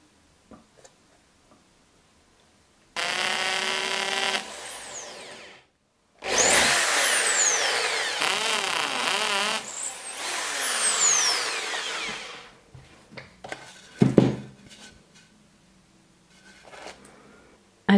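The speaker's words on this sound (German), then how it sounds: "werde jetzt mit der Bohrmaschine da Löcher reinbohren" A power drill bores holes in wood for a macrame plant hanger, several whirring bursts that rise and fall in pitch with pauses between, close and loud, followed by some clicks and handling knocks.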